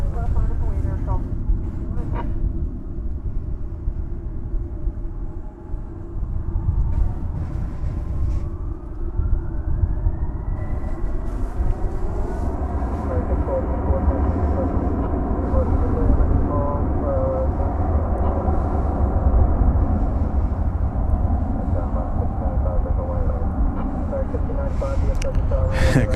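Airliner taking off from runway 18 left at DFW airport, a sustained far-off jet roar that swells and rises in pitch, with people talking over it.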